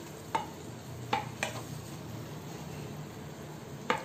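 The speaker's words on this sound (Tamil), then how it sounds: "இப்ப சாதத்தை கலந்துக்கலாம்" Cooked rice is stirred into a mint masala in a pan, with a few sharp scrape-and-clack strokes of the spoon over a faint, quiet sizzle.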